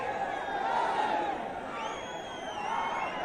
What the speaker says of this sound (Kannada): ದಯವಿಟ್ಟು ಸ್ವಲ್ಪ ಇಲ್ಲ ಜೈಕಾರ ನಿಲ್ಸಿ, ಫಸ್ಟ್ ನಿಲ್ಸಿ.